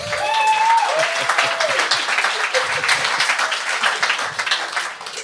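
A comedy show audience bursting into sustained applause, dense clapping that fills the room at a steady loud level for several seconds before beginning to taper, with some crowd voices mixed into the din.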